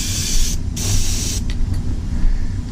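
Spray paint hissing onto a Bullfrog Diver model over an old green base coat, loud close bursts with two short pauses and brief sputters near the end.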